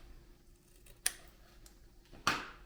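Two sharp, close snips of scissors cutting paper at the corners, about a second apart, in a quiet room.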